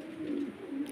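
A pigeon kept for sale with its pair gives a short, close low coo, one rolling call with a brief second phrase, clear and alone.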